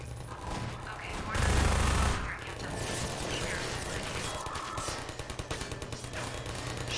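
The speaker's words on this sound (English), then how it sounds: "this turret is killing it" Rapid automatic turret fire in Half-Life 2, a loud, continuous mechanical rattle of shots with a heavy low burst near the start and clipped bursts toward the end.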